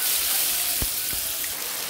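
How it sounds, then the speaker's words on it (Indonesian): Ground spice paste sautéing in hot oil for an Indonesian egg and tofu coconut-milk dish, a steady close sizzle and hiss with a couple of faint soft knocks. "Panaskan minyak. Tumis bumbunya yang sudah dihaluskan tadi."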